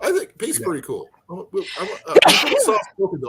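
A sneeze comes through a phone call on a live talk stream, one loud burst breaking up otherwise steady conversation, with people talking before and after it.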